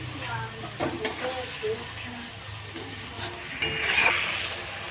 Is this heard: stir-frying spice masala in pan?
yes